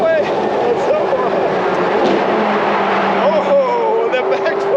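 A McLaren 675LT supercar engine booms and echoes beneath a highway overpass, heard from inside the car as a continuous, loud rumbling roar whose pitch shifts and rises.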